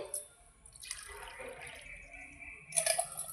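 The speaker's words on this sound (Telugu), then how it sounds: "ఒకసారి కడిగి నీళ్ళు ఆరబోసి" Water drains off tamarind that has just been washed for a tamarind chutney: a soft, uneven trickle and splash from close by, with a louder burst of pouring near the end.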